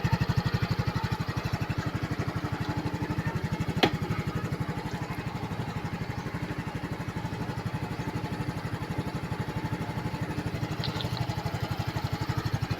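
A cold Yamaha scooter engine, which got water in it after being rained on, idles steadily and close by, its fast even putter unbroken throughout, with one sharp click partway through.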